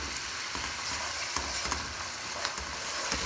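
Masala fries on a high flame in a karahi for chicken tikka karahi, a constant dense sizzle with a few light stirring clicks, moderately quiet and close, with no one speaking.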